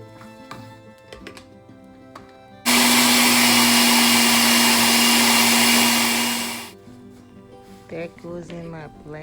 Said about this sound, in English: I'm blending the second part